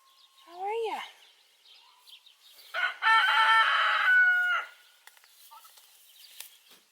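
Farmyard chickens cluck softly, then a rooster lets out one loud, close crow lasting a couple of seconds, followed by quieter scattered calls.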